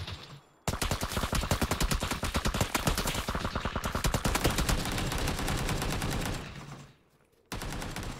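Rapid automatic gunfire in a video game, long sustained bursts of fast, evenly spaced shots, loud and close, with a brief pause before firing resumes.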